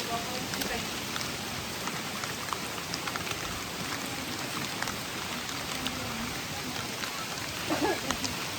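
Heavy rain pouring down in a forest during a monsoon trek in the Adrai jungle, a dense, steady hiss of drops close around with small scattered patters.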